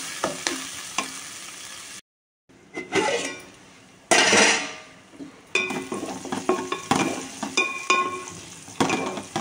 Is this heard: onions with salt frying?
yes